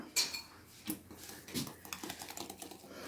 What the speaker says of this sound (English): Let's whisk this up.